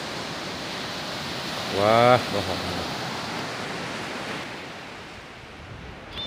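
Waves wash steadily on the beach at Calang, Aceh Jaya, a constant broad surf hiss, with a person's brief exclaiming voice over it.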